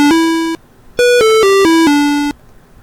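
Enveloped 8-bit synthesized tones made in Audacity: a sustained buzzy square-ish note, a pause, then a descending run of five clean stepped pitches, loud and close with no voices.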